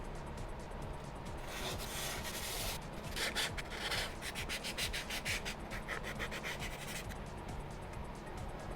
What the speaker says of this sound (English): This is some 220 sandpaper.